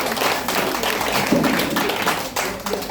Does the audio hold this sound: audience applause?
yes